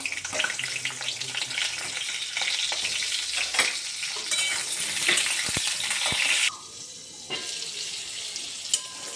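Pieces of pointed gourd (potol) frying in hot oil, giving a continuous close sizzle with occasional clinks of stirring, which drops to a softer hiss toward the end.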